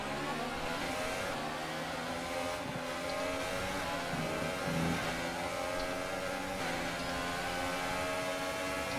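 Formula 1 car with a Renault engine racing in the F1 2018 video game, a steady engine drone with rising revs running through the whole stretch, fairly loud and alone.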